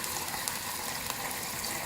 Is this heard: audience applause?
no